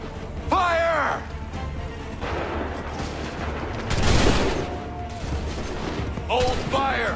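Muskets fire in volleys during the Lexington and Concord battle in Assassin's Creed 3, giving a broad crackling burst around the middle under shouted commands and battlefield noise.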